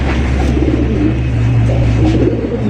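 Indian Bombay pigeons cooing, soft low murmuring coos repeating close by over a constant rumbling background with no talk.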